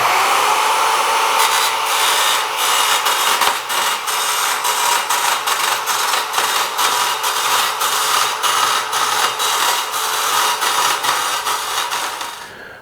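An Evolution multi-material track saw cuts through 1/2 inch expanded metal, giving a loud, steady high-pitched whine broken by rapid rhythmic clicks and rattles as the blade meets each strand of mesh, and it winds down at the end.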